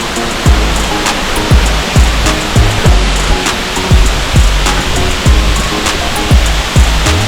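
Jhinkra waterfall in Odisha pours from a great height in a loud, steady roar of falling water, broadband and continuous, with repeated low thumps underneath, heard close with no talking.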